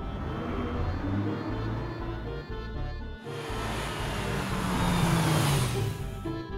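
A pink toy convertible car's engine rumbles steadily, then swells into a louder, rising rev with a whooshing sweep in the second half, without any talk.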